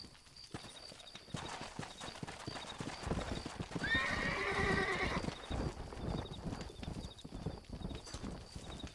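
Rapid clip-clop of galloping hooves with a loud horse whinny partway through, set against a busy game soundscape in the video game Red Dead Redemption.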